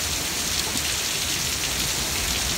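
Steady heavy rain during a storm with a tornado warning, a dense continuous hiss of drops striking surfaces, loud and unbroken with no voices.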